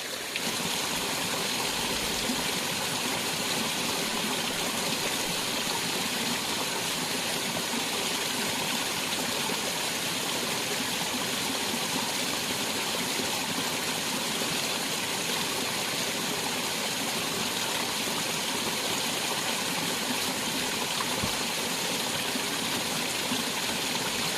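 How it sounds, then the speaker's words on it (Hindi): Water splashes and patters continuously inside a water tank, a steady uneven stream of water falling in pieces, with no voices. "टंकी के अंदर जो पानी टुकड़ों में गिर रहा है ना, वो आवाज़ कर रहा है"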